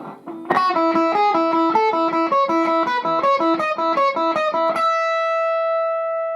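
A distorted electric guitar plays a quick run of repeated notes from a song, loud and close, ending on a sustained ringing note with no voice.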